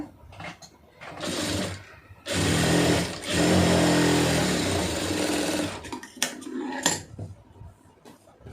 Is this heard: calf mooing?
no